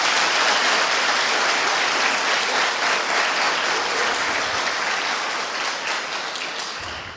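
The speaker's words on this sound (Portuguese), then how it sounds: "Alguém pode aplaudir Jesus com fé?" A church congregation at a celebration service bursts into loud, sustained applause, a dense wash of many hands clapping that holds steady and tapers slightly toward the end, with no talking over it.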